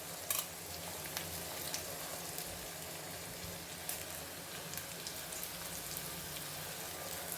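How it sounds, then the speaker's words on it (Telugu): Onions, curry leaves and chillies fry in a pan with a steady, soft sizzle and crackle, faint and continuous with occasional sharper pops. "ఇప్పుడు మనం సన్నగా తరుక్కున్నాం చూడండి ఆనియన్స్ మొత్తాన్ని వేసేద్దాము దాంట్లోనే కరివేపాకు తర్వాత చిల్లీస్ ఇవి మొత్తం వేసేద్దాం"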